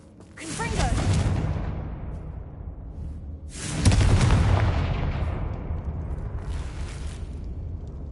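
Two loud, booming Confringo spell explosions in Hogwarts Legacy hit a damaged bridge, each a sharp blast followed by a long rumbling decay, with a voice speaking near them.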